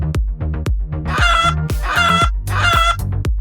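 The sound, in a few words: chickens clucking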